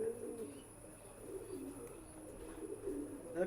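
A native pigeon coos in a pet shop's pigeon gallery, soft repeated low coos in a steady rhythm, near but faint, with a few light chirps in the background.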